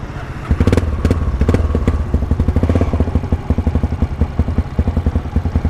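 A motorcycle engine runs close by in damp weather after rain, with a steady rhythmic mechanical pulse and clattering pops, loud and continuous throughout.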